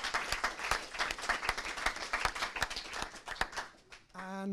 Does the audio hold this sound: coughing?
no